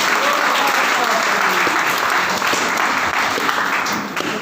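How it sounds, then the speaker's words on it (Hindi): A crowd breaks into vigorous, dense clapping at a local gathering before a ribbon-cutting, a sustained loud applause lasting several seconds and tapering slightly at the end. "जोरदार ताली होना चाहिए"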